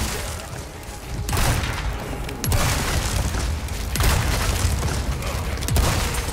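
Heavy shotgun blasts in Resident Evil 4 Remake during the Chief Mendez boss fight: a few loud, booming reports spaced a second or more apart, each followed by a rumbling tail over a dense wash of game noise.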